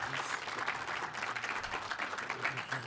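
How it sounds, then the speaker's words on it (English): Applause from an audience at a school celebration event in Johannesburg, continuous dense clapping throughout. "You have been clapping your hands."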